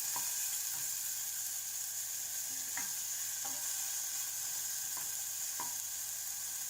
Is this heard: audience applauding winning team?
no